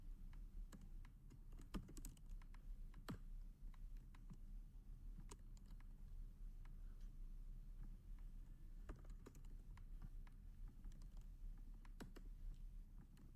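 Sparse, scattered keystrokes on a computer keyboard as code is written, faint individual clicks at an unhurried pace over a steady low background hum, with no talk.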